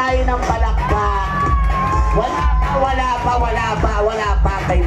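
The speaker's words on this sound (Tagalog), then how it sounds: "Palakasan tayo ng palakpak." A loud crowd at a local beauty pageant in Batangas cheers, whoops and shouts nonstop, high yells riding over a steady roar with clapping and a thumping bass beat underneath.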